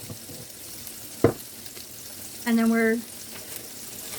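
Burger rolls toast in a hot pan with a soft, steady sizzle, broken by a sharp knock and a brief tonal beep, while a voice speaks a few words.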